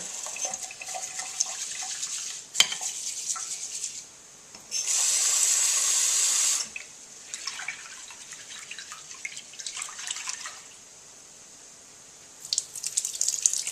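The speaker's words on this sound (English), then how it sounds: "So I'm going to wash it with some water." Running tap water pours and swishes in bursts over rice being washed, with splashing and rubbing between flows, close by and without speech.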